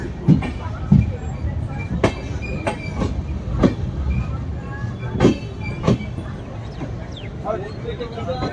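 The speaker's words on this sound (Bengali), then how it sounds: "আমাদের ট্রেন নির্ধারিত সময় থেকে 13 মিনিট দেরি করে এখন ব্যান্ডেল স্টেশন ঢুকছে" A Howrah–Radhikapur Kulik Express with new LHB coaches creeps slowly into Bandel Junction, its wheels giving sharp, irregular clacks over crossing points above a steady low rumble, heard close from inside the train.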